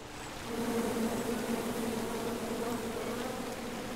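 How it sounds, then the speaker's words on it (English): Bees buzz in a swarm attacking the player in King's Quest, a steady, close, droning hum that swells in after a brief quiet start and holds unbroken without any talk. "attacking bees!"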